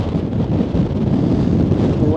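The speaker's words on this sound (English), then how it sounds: "it's really windy today" Strong wind buffets the microphone on the exposed clifftop of Brean Down, Somerset, a loud continuous low rumble and rush with no break and no other sounds standing out.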